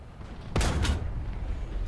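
Tank cannon shot in War Thunder, a single sharp blast after a quiet moment, followed by a short rumbling echo that fades away.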